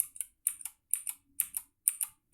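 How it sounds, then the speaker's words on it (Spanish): Typing on a Keychron K10 mechanical keyboard, with close, crisp key clicks landing in quick clusters of two or three strokes separated by short pauses, with no voices. "teclado mecánico"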